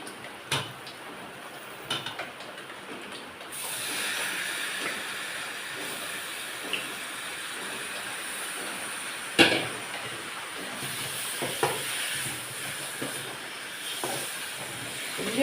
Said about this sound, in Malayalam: നമ്മൾ കഴുകി ശരിയാക്കി വെച്ചിരിക്കുന്ന ചിക്കൻ ഇടുവാണ്